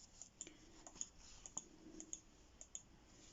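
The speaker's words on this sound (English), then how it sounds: "I apologise if you can hear the mouse clicking." Computer mouse buttons clicking on a table in a quiet room, a series of faint, sharp clicks in an irregular rhythm with no talk.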